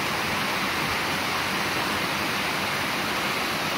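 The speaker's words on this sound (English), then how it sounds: "Look at this waterfall." A small waterfall pours steadily along a hiking trail, a dense, continuous rushing wash that stays close and loud throughout with no voices over it.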